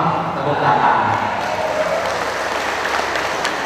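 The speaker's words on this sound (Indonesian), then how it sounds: "Tepuk tangan." A crowd at a political gathering in Cimahi, Bandung, applauds in a steady, dense wash of clapping and murmur that fills the whole stretch, with voices audible within the noise.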